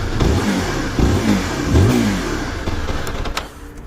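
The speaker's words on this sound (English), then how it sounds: "let me just give you an exhaust note." Zontes 350R motorcycle, a 350cc bike, blipped at standstill, with its exhaust note rising and falling through several loud revs before settling back toward idle.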